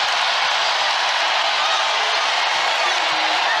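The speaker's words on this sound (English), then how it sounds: "And that gets the crowd into it." A basketball arena crowd at a women's college game between Kentucky and West Virginia roars steadily at full volume, a dense wall of cheering with no breaks.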